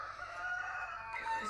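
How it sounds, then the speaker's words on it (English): Chickens making noise outside, with a rooster-like crow and clucking filling the short stretch at moderate distance, steady and fairly loud over faint background noise. "Those two chickens, if they are not coming into the house and trying to mess everything up, they're making noise outside."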